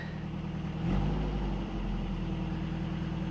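A cheap Toyota truck engine idles steadily with a low, even rumble, briefly swelling louder near the start before settling back to a constant idle.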